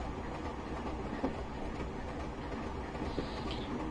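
Class 24 diesel locomotive coasting on rails in Train Simulator Classic, a faint steady rolling rumble with soft wheel clicks and no engine drive, running alone.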